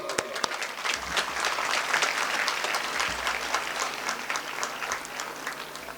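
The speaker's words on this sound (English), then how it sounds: "So give yourself a big round of applause." A school crowd at an Independence Day celebration applauds steadily, a thick continuous rattle of many hands with a few sharper nearby claps, sustained and fairly loud throughout.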